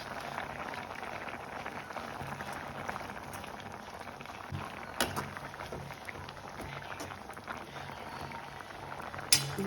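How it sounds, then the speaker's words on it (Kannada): Elephant foot yam boiling in a pot: a steady, soft bubbling and rolling simmer up close, with occasional louder pops and clinks and no speech. "ಈ ಕಡೆ ಸುವರ್ಣಗಡ್ಡೆ ಬೇಯ್ತಾ ಇದೆ."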